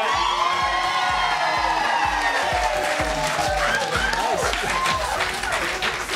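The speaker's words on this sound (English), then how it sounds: "but did they really have to boo?" A studio audience on a daytime television panel show reacts with a loud, dense crowd noise of jeering and booing, mixed with scattered shouts and a rhythmic thumping pulse, continuing throughout.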